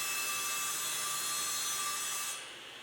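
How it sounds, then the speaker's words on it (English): A table saw with a standard blade cutting through acrylic sheet, a steady whining, rasping drone held for over two seconds, then the high cutting noise drops away as the blade spins on more quietly. "acrylic can be safely cut on most table saws with a standard blade"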